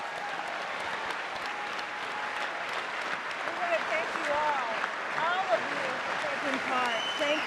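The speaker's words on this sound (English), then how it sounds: "let's give all these guys a big round of applause." At the end of a Democratic debate the audience breaks into sustained applause, a dense, even wash of clapping with scattered whoops and cheers rising toward the end.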